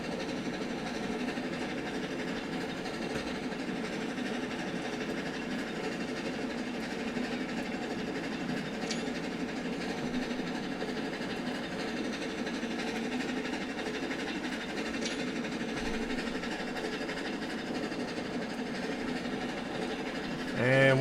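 A train in the Railroads Online video game rolls across a trestle, a continuous, even rumble and drone of wheels and engine with faint clicks, steady and unbroken throughout.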